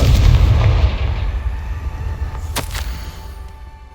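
A Confringo explosive spell blast in Hogwarts Legacy lands as a loud booming burst that rumbles and decays over a couple of seconds, followed by a brief crackling snap near the end.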